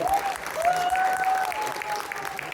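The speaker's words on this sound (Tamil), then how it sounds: "உங்கள் வாழ்த்துக்களும் கரகோஷங்களும் அவர்களை உற்சாகப்படுத்தும்" Audience applause at a Tamil pattimandram debate show: brief, dense clapping from a crowd with a thin whistle-like tone running through it.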